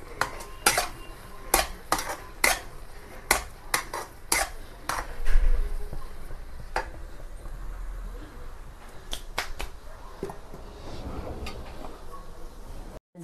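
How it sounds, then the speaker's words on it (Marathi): A spoon stirs upma in a pan, with repeated sharp metallic clicks and scrapes against the cookware. A quieter, steadier stretch of stirring follows midway. "आणि असं थोडंसं फिरवून घेऊया."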